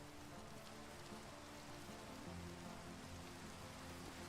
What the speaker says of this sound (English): We'll let it rain.